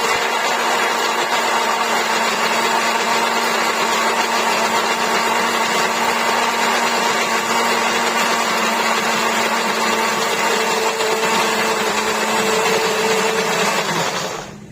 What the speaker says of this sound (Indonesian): Kita masukkan juga ke blender, tambahkan sedikit air, bisa diganti dengan minyak ya. Kemudian ini kita blender sampai halus.